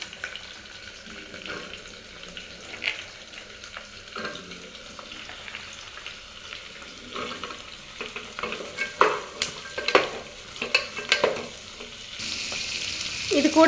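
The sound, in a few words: vegetables and green chili frying and being stirred for kurma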